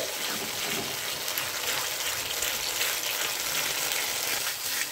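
Katla fish rezala masala with poppy seed paste, cashew paste and a splash of water being sautéed and stirred in a pan, giving a dense, steady hissing sizzle that fills the whole stretch.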